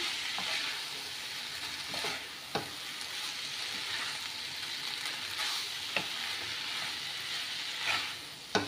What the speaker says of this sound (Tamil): இதை ஆட் பண்ணிக்கலாம். இப்போ வெஜிடபிள்ஸ் கூட மிக்ஸ் பண்ணி விட்டுருங்க.